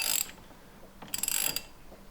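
A ratcheting torque wrench tightens the steering wheel nut on a C5 Corvette with two short bursts of rapid, close metallic clicks separated by a pause.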